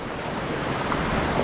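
A waterfall in the Kaeng Krachan National Park jungle in Thailand gives a close, steady rushing roar of falling water, unbroken and fairly loud, with no voices.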